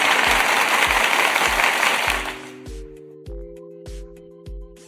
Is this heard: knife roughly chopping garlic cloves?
no